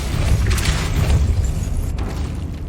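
Depulso force spell cast in the Hogwarts Legacy video game, a loud booming low-end blast with a rushing burst of energy that rolls on steadily for a couple of seconds.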